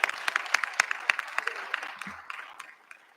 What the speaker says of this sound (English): give yourselves a round of applause for helping to support these students